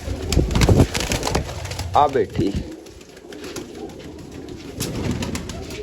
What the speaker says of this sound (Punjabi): ਆ ਕਬੂਤਰੀ ਹੈ